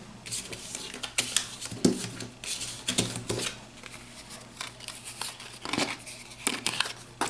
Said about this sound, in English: So shuffle it up, and I'll just pull cards from this chair